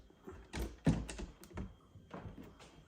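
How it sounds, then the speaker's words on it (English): A few soft wooden thumps and light rattles as a kitchen drawer is pushed back into place, quiet and close. "So now we're going to put the drawer back and see how it does"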